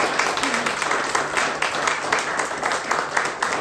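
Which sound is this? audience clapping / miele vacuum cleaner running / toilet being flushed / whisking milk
audience clapping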